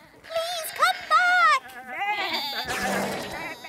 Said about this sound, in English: Sheep on the loose?